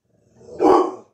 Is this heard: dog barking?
yes